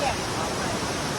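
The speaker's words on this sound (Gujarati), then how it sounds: "બહુ જ વરસાદ પડી રહ્યો છે અહીંયા." Heavy downpour with water gushing down the steps of the Sunda Mata temple, a dense, steady roar of rushing water filling the whole short moment.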